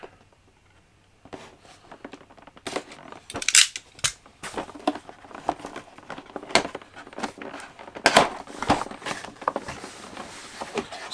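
A blade slices into the plastic and cardboard packaging of a 1/6 scale Lt. Commander Data figure by EXO-6, giving close, irregular crackling, tearing and snapping bursts after a quiet start, with no talking.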